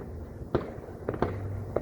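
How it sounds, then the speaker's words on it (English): Fireworks on the eve of the Fourth of July pop and crackle in a few distant bursts, three or four sharp reports spread over a couple of seconds against quiet outdoor background noise. "Are you guys enjoying your fireworks?"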